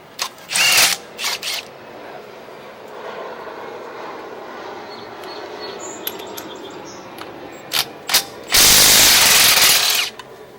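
A Milwaukee M12 stubby 3/8 impact gun removes wheel lug nuts, sounding as several short, loud, hammering bursts up close. The bursts are separated by quieter shop background, and a longer final burst spins a nut off. No one talks.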